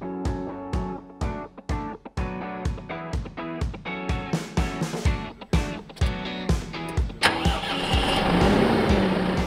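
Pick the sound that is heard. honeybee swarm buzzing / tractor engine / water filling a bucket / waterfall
tractor engine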